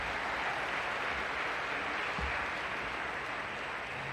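A large convocation audience applauding, a steady dense wash of many hands clapping that holds at an even level throughout with no voices on top.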